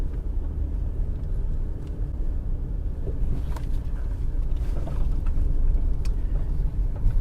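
A worn old car with bald front tyres drives along, its engine producing a steady low rumble with faint rattles and occasional clicks over the continuous road noise.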